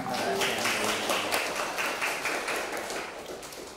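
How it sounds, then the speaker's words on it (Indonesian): Audience clapping after a presentation at a school event, a steady patter of many hands that gradually fades over a few seconds. "Tepuk tangan."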